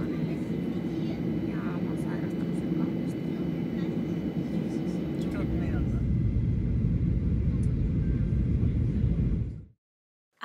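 Aircraft cabin on a flight to Amsterdam, with a steady loud low engine and air roar filling the space, under what sounds like a faint cabin announcement, before cutting abruptly to silence.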